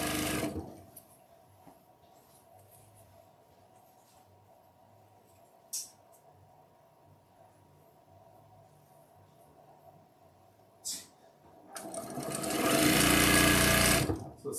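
A sewing machine stitches quilt pieces together: a low steady hum with a couple of short clicks, then a loud, fast run of stitching near the end.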